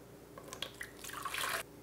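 Water pours and splashes briefly into a container, a short trickle building to a fuller gush before stopping.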